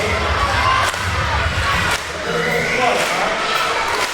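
Children cheer loudly in an elementary school audience at an illusionist's show, a sustained roar of young voices with thumps and shouts, steady and close throughout.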